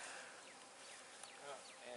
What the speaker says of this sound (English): They are buzzing all over your ass.